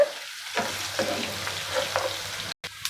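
Onions sizzle softly in oil left from frying paneer, for palak paneer, a faint crackling fry with light stirring scrapes and a brief gap near the end.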